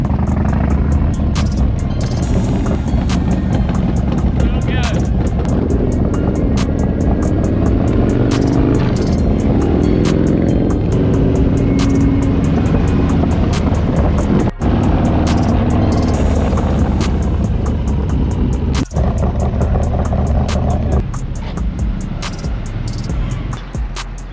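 A Harley-Davidson Softail motorcycle is ridden at speed, with a loud steady engine drone and heavy wind rumble throughout and small shifts in pitch, and no talk.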